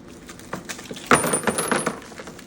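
Small metal driver bits clink and rattle as they are handled in an impact driver kit case, a run of quick close metallic taps that grows busier partway through.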